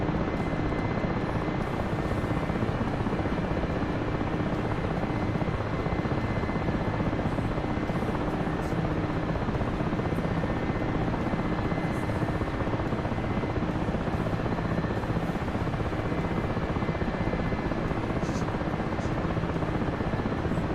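A cargo-laden helicopter holds a hover in the PAC flight game, its rotor a steady, loud broadband drone with a constant low thrum that barely changes across the whole stretch, no voices over it.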